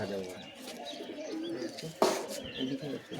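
Paired domestic pigeons coo and chirp softly near a cage amid a busy outdoor backdrop, with a sharp clatter midway and people talking around them.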